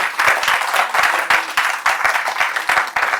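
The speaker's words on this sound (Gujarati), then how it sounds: "બંને વક્તાઓનું ખૂબ તાળીથી સન્માન કરીએ." An audience at a Gujarati book-introduction event applauds the two speakers with brisk, loud, close clapping that swells and dips in rhythmic surges for a few seconds.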